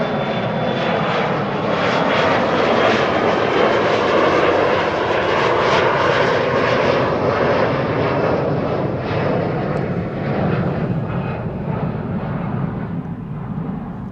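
A Corendon A350 jet taking off from runway 24 at Amsterdam Schiphol, a loud sustained engine roar heard from a distance that holds steady and then slowly begins to fade toward the end.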